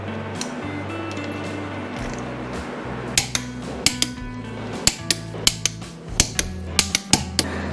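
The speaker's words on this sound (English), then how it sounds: "I'll go ahead and torque this thing to 29 foot-pounds in the correct sequence to the block with no gasket" A torque wrench tightens intake manifold bolts to 29 foot-pounds on an engine block with no gasket, giving a series of sharp, close metallic clicks at irregular intervals over a low steady hum, with no talking.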